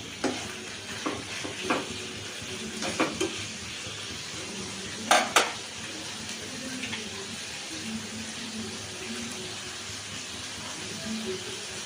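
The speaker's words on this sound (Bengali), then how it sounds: "এবার দেখো আমি চিকেনটাও ভেজে নেবো।" Chicken frying in a pan with a constant loud sizzle, broken by a few sharp clinks of a spatula against the metal, with a voice faintly present.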